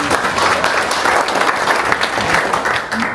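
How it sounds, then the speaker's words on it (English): An audience at a West Covina town hall on public safety applauds a speaker named Roxanne, with close, steady clapping from a crowd lasting the whole few seconds. "Let's give Roxanne a round of applause."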